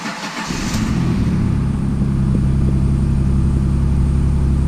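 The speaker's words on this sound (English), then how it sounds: "So we put the key in the ignition, turn it on." A 2007 Jeep Liberty is started with a newly programmed key. The engine cranks briefly, catches, and settles into a steady, loud idle heard close up.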